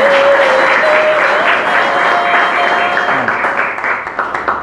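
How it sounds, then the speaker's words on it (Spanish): A crowd applauds loudly and steadily, the clapping gradually thinning out into scattered individual claps at the end. "Mándame un aplauso, Marcelo, que el maestro me está viendo."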